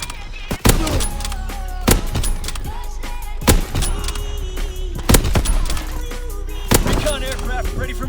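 Rifle shots from a Lee Enfield or Kar 98 bolt-action rifle in Call of Duty WW2 ring out five times at steady intervals of about a second and a half, each a loud sharp crack with a ringing tail, under continuous background game noise.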